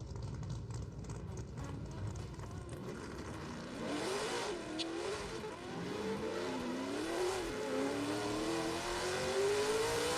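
Simulated engines of an A90 Supra and an S15 drifting in a racing sim competition, a steady revving drone that rises in pitch through the second half, with no talk over it.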